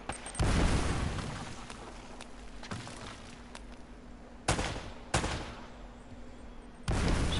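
Bursts of video game gunfire crack out in short volleys, with sharp loud shots at intervals and a low rumbling tail between them.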